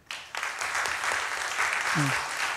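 A church congregation at a youth worship service applauds the middle and high school group, a few claps building quickly into steady, sustained clapping, with a brief voice heard partway through.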